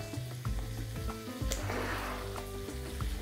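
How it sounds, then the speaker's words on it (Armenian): Ham strips sizzle and fry in a pan alongside softened onion, a steady low crackle with occasional stirring scrapes, close but fairly quiet and with no voices. "Սոխը փափկեց, կավելացնենք խոզապուխտ։"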